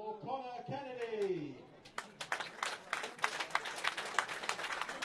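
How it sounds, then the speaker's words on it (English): Polite applause from a small crowd at a Kettering Town football match, scattered light clapping, fairly distant, starting after a man's speech and continuing on its own. "It was polite applause rather than a fully blooded, yes, we all agree with the sponsor."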